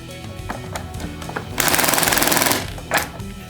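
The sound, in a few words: Acetech speedloader loading a Northeast FAMAS gas blowback magazine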